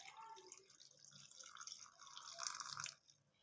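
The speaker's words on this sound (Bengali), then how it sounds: "কিছুটা জল দিয়ে দেবো," Water pours into a mixing jar holding carrot pieces, a close, uneven splashing and trickling that swells louder near the end before cutting off.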